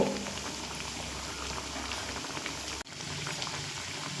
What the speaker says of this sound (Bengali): এইভাবে লাল উল্টে পাল্টে লাল করে ভেজে নেব